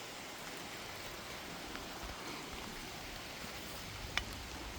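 Heavy rain falls outdoors on a farm as a steady, dense broadband patter, continuous throughout with one brief sharp tick near the end.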